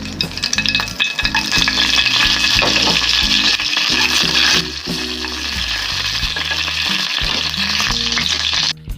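Whole spices (cinnamon, cardamom, cumin, bay leaf) frying in three spoons of oil for masala paneer: a steady, close sizzle and crackle with intermittent stirring scrapes and low clunks from the pan.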